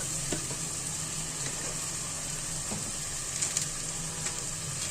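Spinach and beef curry fries in a pan with a loud, continuous sizzle and a few brief clicks and scrapes from stirring.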